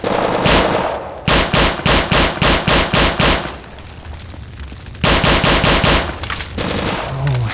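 Automatic gunfire in the Return to Castle Wolfenstein video game, loud rapid bursts with a short break in the middle before firing resumes, no voices.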